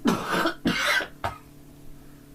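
Two harsh coughs in quick succession, close by, followed by a faint short throat sound and then quiet.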